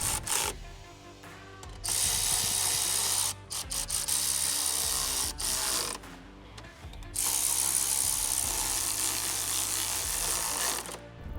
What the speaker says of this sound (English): Don't forget to reinstall your fasteners that attach to the top of the grill with a